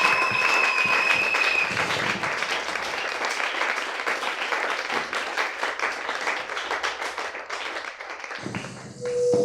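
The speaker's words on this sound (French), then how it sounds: "Acclamez très fort, merci." A church congregation claps loudly and steadily for several seconds, a dense mass of hand claps with a few shouts rising above it. The applause fades near the end and a voice cuts in.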